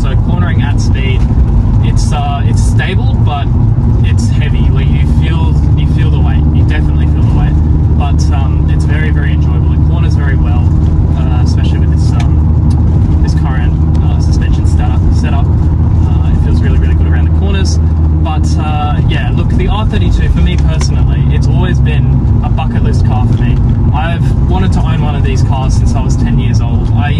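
A 2007 Volkswagen Golf R32 Mk5 drives along with a steady, loud engine and road drone throughout, while a person talks over it from inside the cabin.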